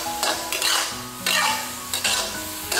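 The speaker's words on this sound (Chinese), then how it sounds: "再给它煸炒个5、6、7、8下，就可以出锅啦" Green peppers and fried eggs are stir-fried in a wok, giving a few soft scraping and clinking spatula strokes against the metal with a light sizzle underneath, close and fairly quiet.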